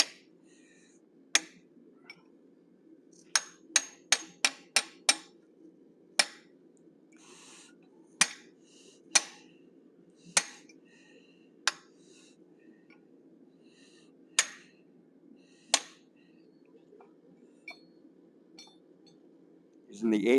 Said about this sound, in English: Then I'm using my 1/4 inch fuller. I'm going to bring those brows down.